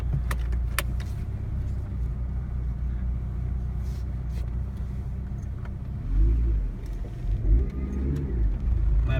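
A Mitsubishi Lancer EVO6 with a newly fitted Momo steering wheel rumbles along on a test drive, its engine a steady low drone that swells briefly as it revs near the end, with a few light clicks and rattles inside the cabin.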